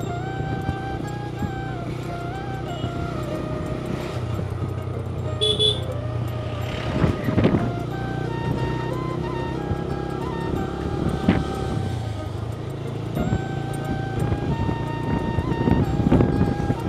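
A motorcycle rides along a rural village road in Manikganj, its engine droning steadily and close. Occasional horn toots and passing traffic rise over the hum.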